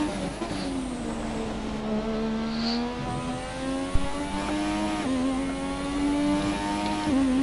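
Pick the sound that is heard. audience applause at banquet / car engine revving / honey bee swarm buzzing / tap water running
car engine revving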